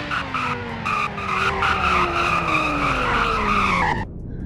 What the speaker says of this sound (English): Braking could be better. You do slide all over the place, but it's not terrible.